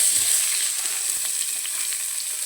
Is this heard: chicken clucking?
no